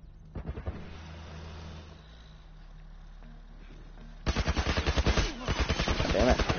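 Gunfire rings out in The Last of Us video game, starting with scattered faint shots, then a dense, loud rapid burst of repeated shots over the last two seconds; a voice is heard briefly among them.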